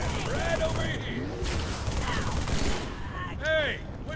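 Gunfire in a Halo 3 remake mod on a legendary mission, a dense run of overlapping shots and whizzing energy-weapon tones with sweeping pitch, mixed with busy battle noise and a voice in the background.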